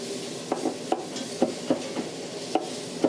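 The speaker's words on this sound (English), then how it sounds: "Go ahead and give it a quick little chop." Guacamole ingredients get a quick chop with a knife on a board, about a dozen sharp, close taps in an uneven rhythm over a low background hum.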